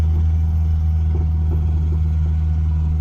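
A Crosley car's small engine pulling steadily in first gear, a constant low rumbling drone with a steady hum throughout, close and loud with no voices.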